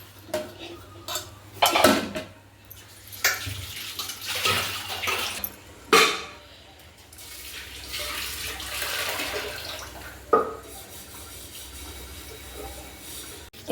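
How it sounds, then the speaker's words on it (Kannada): A large cooking vessel is scrubbed and rinsed at a sink, with loud metallic clanks and scrapes of the pot against other dishes amid intermittent running water, close and irregular. "ಇದನ್ನು ಚೆನ್ನಾಗಿ ವಾಶ್ ಮಾಡಿದ್ದೀನಿ"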